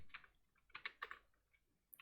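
Keys clatter on a computer keyboard in quick, irregular clusters of taps, close and quiet, with no voices.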